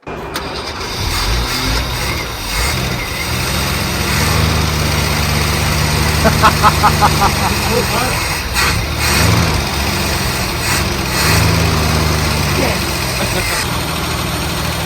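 A Holden Commodore engine running near the mic, a steady rough idle with a few small revs and bursts in the middle, and people talking over it.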